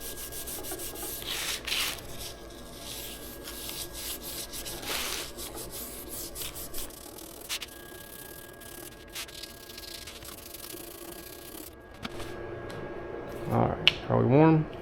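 Scuffing and sanding a beer-box cardboard cowboy hat template, with rough rubbing strokes in irregular bursts, fairly close but quiet, and some handling noise and brief clatter near the end.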